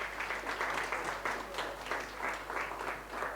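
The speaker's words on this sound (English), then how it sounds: "Please give them a big round of applause." Applause for sponsors at a live sommelier competition broadcast in South Africa: rhythmic, somewhat distant clapping from a crowd, rising and falling in waves over a low steady hum.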